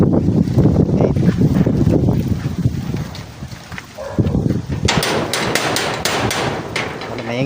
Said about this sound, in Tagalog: Maingay yung gate.